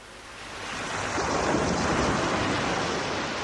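Ocean waves and wind in an Arctic sea scene, a steady broad wash of surf and blowing air that swells slightly louder partway through and then holds, with no voices.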